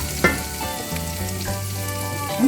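Mushrooms and onion fry in a pan with a moderate sizzle and an occasional clack of a utensil, while faint music runs underneath.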